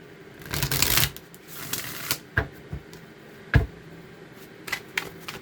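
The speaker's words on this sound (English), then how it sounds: "I shuffle good, I shuffle multiple ways, and then I just let the cards fly out" Tarot cards shuffled by hand in several ways, giving irregular papery riffles and sharp slaps, a dense burst near the start and then scattered separate flicks, close and fairly quiet with no talking.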